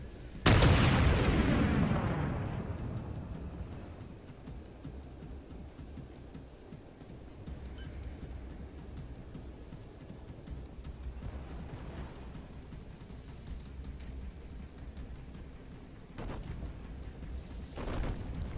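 Naval guns on a warship in World of Warships fire HE shells in one loud, close boom at the start that rolls off slowly, followed by a low engine rumble and faint distant thuds.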